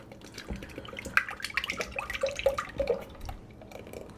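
Heavy whipping cream being poured into a bowl, a faint, uneven trickle with small liquid splashes and drips, fairly quiet and unaccompanied by talk.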